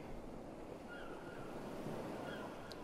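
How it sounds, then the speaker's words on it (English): Ocean waves in the Kingdom Hearts Dream Drop Distance video game roll on in a steady, quiet wash with faint wind, as a storm builds and the waves grow steep, with no voices over it. "The waves are getting steep."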